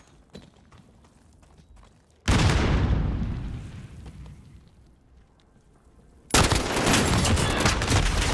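Call of Duty combat: sparse distant shots, then a loud grenade blast that rumbles and fades over a few seconds, followed by a dense burst of heavy gunfire and explosions.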